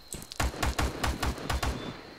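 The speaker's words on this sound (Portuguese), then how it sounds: "Estou a ouvir tiro ao meu oeste." A rapid series of sharp popping airsoft shots, about a dozen in steady rhythm, fairly distant during a milsim game, with a faint high whine in the background.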